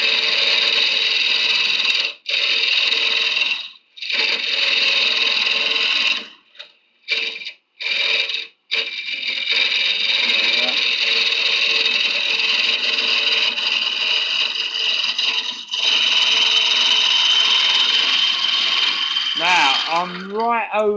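A wood lathe spins a horse chestnut hollow form while a turning tool cuts inside it, giving a steady, loud whirring scrape that drops out briefly several times as the tool lifts away.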